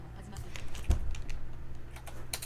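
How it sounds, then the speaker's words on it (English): Light clicking of fingers typing on a computer keyboard, quick soft taps scattered across a couple of seconds over a faint background hum, with a sharper knock near the middle. "I'll type it into Google too."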